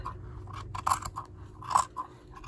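Scissors snipping through quilt fabric during binding, a few soft, close crunching cuts spaced unevenly over a quiet background, with no talk.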